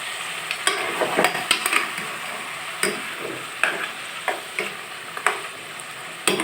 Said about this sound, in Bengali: মাংসটা 1 মিনিট ভেজে নিলাম